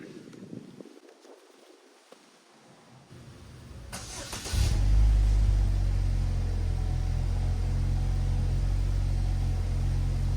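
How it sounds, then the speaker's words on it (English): A car engine cranks and catches after a few quiet seconds, settling into a steady low idle rumble that continues to the end. "Now we're going to go ahead and start the vehicle up."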